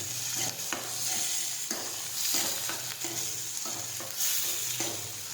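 Grated ginger is stirred into sizzling onions and tomatoes in a pan, a steady close frying hiss broken by repeated scraping strokes of the spoon at an even rhythm.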